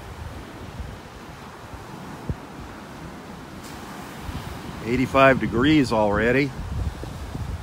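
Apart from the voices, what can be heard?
breezy wind off the Gulf at North Naples beach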